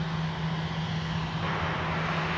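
Delta airliner taking off from runway 17 at Minneapolis–St. Paul Airport, a steady low engine roar with a constant drone, heard from a distance without any talk.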